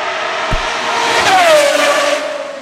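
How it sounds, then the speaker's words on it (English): A Pagani Huayra R Evo Roadster racing on a track at full, unmuffled volume: a loud, close engine wail that climbs in pitch as it revs and accelerates past, with a brief thump near the start. "So being able to experience the full volume of this car is a rare treat."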